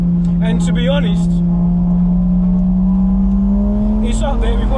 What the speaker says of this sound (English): that was 3rd gear, wide open throttle.